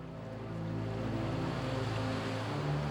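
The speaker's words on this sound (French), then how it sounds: "Les vagues encerclent la petite péninsule hawaïenne, comme dans un étau." Tsunami waves striking the coast of a small Hawaiian peninsula, a loud continuous rumbling surge of water and wind, alone without talk.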